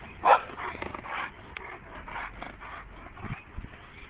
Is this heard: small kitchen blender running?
no